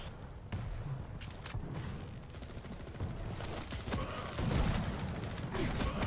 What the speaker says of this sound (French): Ah, il y a du pistolet laser.